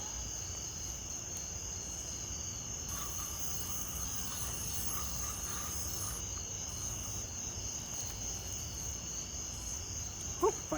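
Crickets and other insects chirp in a steady outdoor drone, faint and continuous, with a few brief rustles near the end.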